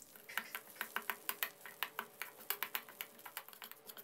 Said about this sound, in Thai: กะปิ1ช้อนโต๊ะคั่วกะปิของเราให้สุกหอมเลยครับ